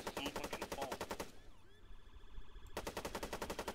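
Rapid automatic gunfire in a shooter video game: fast evenly spaced shots in two bursts separated by a brief pause with softer sounds, close and sharp.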